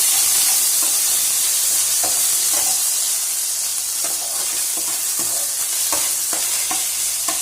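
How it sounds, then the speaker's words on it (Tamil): Ginger garlic paste fries loudly in hot oil, a dense continuous sizzle and hiss with repeated scraping knocks as it is stirred around the pan. "இஞ்சி பூண்டு பேஸ்ட் எடுத்து வச்சுருக்கேன், அதையும் போட்டுருங்க. போட்டு இது நல்லா மிக்ஸ் பண்ணி விட்டுருங்க"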